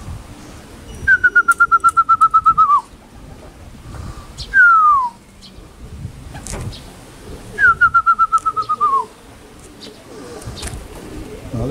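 Pigeons returning to a loft, sounding in three clear bursts of rapid, evenly spaced fluttering calls with a short swooping whistle between them, loud and close over faint outdoor background.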